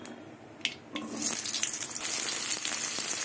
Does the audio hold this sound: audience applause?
no